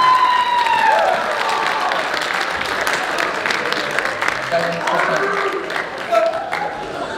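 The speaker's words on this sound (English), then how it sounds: "Round of applause for them too, please." A school show audience applauds and cheers in a sustained, fairly loud burst of clapping, with crowd voices and some whistling mixed in throughout.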